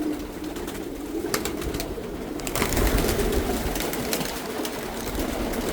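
Racing and meat pigeons coo softly inside a large loft, a steady murmur of low calls over rustling and scattered clicks from the flock.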